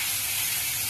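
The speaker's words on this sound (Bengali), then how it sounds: "এবার তেলটা একটু গরম হয়ে গেছে, এবার আমরা এর মধ্যে আদা রসুনটা দিয়ে দেবো।" Ginger-garlic paste sizzling in hot oil in a pan, a steady broadband frying hiss that stays even and close throughout, with no talk over it.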